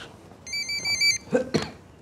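A telephone ringing in an Egyptian comedy scene, a short electronic trilling ring burst followed by clattering thumps, close and fairly loud.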